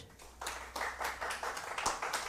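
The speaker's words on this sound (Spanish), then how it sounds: "Les pido un caluroso aplauso" Audience applause welcoming a doctor to the stage at a monthly conference talk, scattered claps building into a moderate, steady round at a medium distance.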